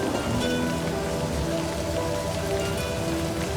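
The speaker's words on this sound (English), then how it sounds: "No more standing in the rain." Steady rain pours continuously in a video game (Livber: Smoke and Mirrors demo), a dense hiss of drops striking a surface, with faint tonal background music underneath.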